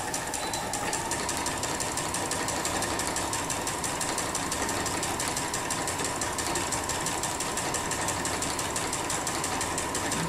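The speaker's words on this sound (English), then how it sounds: "I'll back stitch along the line there." A sewing machine running steadily during free-motion quilting of interlocking curves, a fast continuous mechanical chatter at low, even volume with no pauses.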